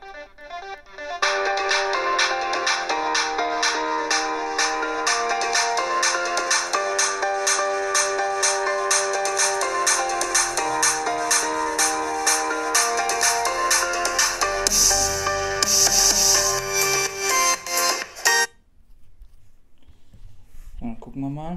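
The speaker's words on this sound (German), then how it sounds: "Also mein Handy hört sich so an." Smartphone ringtone played through a Cabstone USB stereo soundbar, a loud repeating melodic chime pattern that rings steadily for most of the stretch and then cuts off, followed by faint room noise.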